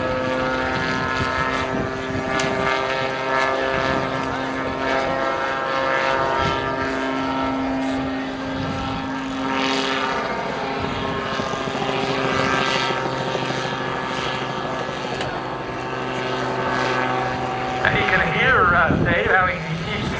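A gyroplane's rotor and engine drone steadily with a whirring, beating tone, holding close and loud throughout, with a louder surge near the end, at an airfield air show.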